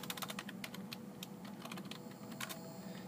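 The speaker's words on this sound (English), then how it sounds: "After typing our proper heading" Fingers type on a computer keyboard, a quick, irregular run of close, crisp key clicks that carries on steadily with no talking.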